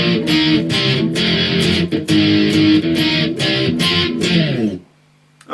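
Distorted electric guitar plays a bridge, a loud, dense run of chugging strummed chords with short breaks that ends abruptly, leaving a faint low hum.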